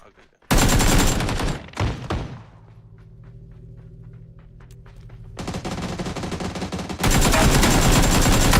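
Loud, dense bursts of shotgun fire come from an online shooting game, with a quieter stretch in the middle where footsteps and clicks can be heard. Players talk over the game sound.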